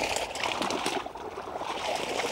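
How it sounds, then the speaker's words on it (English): Carp flapping and flopping in a landing net held under the water, giving a steady, close mix of splashing, sloshing and gurgling with no speech. "You actually hear them flapping and flopping."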